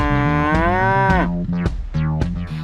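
A cow moos loudly and repeatedly at close range while getting a vitamin injection, long drawn-out bellows broken by shorter calls and breathy noise.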